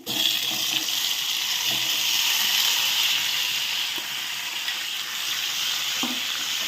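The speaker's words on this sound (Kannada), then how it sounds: "ಎಣ್ಣೆ ಒಳಗೆ ಸ್ವಲ್ಪ ಫ್ರೈ ಆಗ್ಬೇಕು ರೀ" Stuffed brinjal (eggplant) frying in hot oil with garlic, North Karnataka style, a loud, steady sizzle and hiss throughout, with occasional soft stirring knocks.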